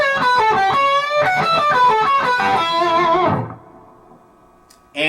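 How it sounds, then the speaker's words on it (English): Electric guitar rips through a blues lick at full speed, quick bright picked notes and bends tumbling together, loud and up front, then a sudden stop and short decay before one last accent. "And if you put all that together, kind of at tempo, sounds like this."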